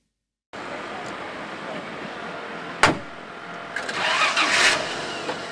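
Engine of a vintage car, such as a classic Rolls-Royce Silver Cloud, starting with a sharp crank burst and then running with a steady broadband rumble that swells louder near the end.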